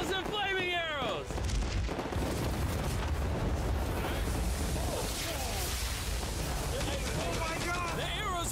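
Video-game volley of whooshing arrows amid booming impacts and crackling battle noise, with excited voices shouting over the din.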